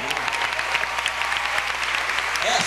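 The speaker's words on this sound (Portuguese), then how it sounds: "E as palmas, boa piada." At a circus show, an audience breaks into dense, continuous applause after a clown's joke, loud and even throughout.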